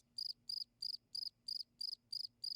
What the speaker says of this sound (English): And crickets.